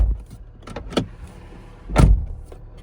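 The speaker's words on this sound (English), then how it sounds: "When I close the door" A Toyota RAV4 door, fitted with sound-deadening panels, shuts with a solid thud near the middle of the clip, after a lighter latch or lock click at the start.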